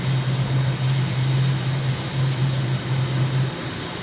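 A steady, loud aircraft engine drone in Microsoft Flight Simulator during the climb out of Tashkent, a constant low hum with broadband rushing wind, alone with no talking.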